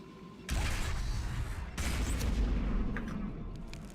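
Ion cannons open fire in a multiplayer video game, a sudden loud burst of heavy booming gunfire that starts abruptly, swells again a moment later and rumbles on continuously at close range with no talking.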